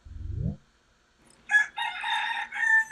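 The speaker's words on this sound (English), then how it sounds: "I know how that rooster talks." A rooster crows just outside a window, a bright piercing cock-a-doodle-doo in two bursts, preceded by a brief low voiced sound, fairly close and loud.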